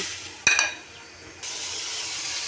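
Fish goes into a pan of fried spice paste: a sharp metallic clatter, a brief drop in the sound, then a sudden steady sizzle that rises and holds, close and with no talking.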